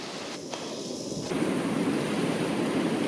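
Strong wind during a storm, buffeting the microphone with a dense, roaring rush that grows louder partway through and stays constant, with no voices.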